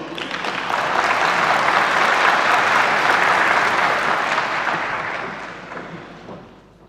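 Sustained applause from a conference audience at the opening session of the XII Lisbon Forum, a dense, full wash of clapping that swells, holds for several seconds and then gradually fades out.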